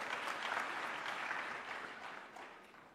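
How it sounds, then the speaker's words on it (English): Audience at a university convocation claps in a sustained, fairly faint wash that gradually tapers off, heard from a distance with no talking. "Can we also give him a big round of applause,"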